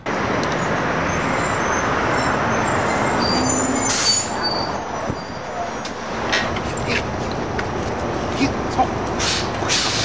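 Busy Manhattan street traffic with city buses rolling past, a steady loud roadway roar with squealing brakes and engine noise rising and falling, while someone talks over it.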